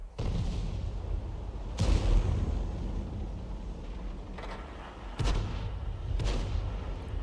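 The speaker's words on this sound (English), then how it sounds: "aim the shell where they're headed, and fire the shell in" An M53/M55 self-propelled gun fires shells in a video game, with heavy booming blasts near 0, 1.8, 5.2 and 6.3 seconds over constant low battlefield rumble.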